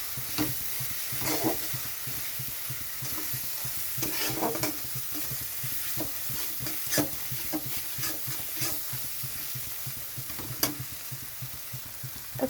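Four or five green chilies fry and get stirred through spice paste for a Bengali fish roe curry. The sizzle is steady, with repeated scraping stir strokes at close range and no voices.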